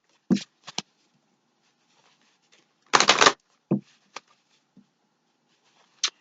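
Tarot cards being shuffled in a few short crisp riffling bursts, close up against near silence, with one longer shuffle in the middle and scattered light card taps around it.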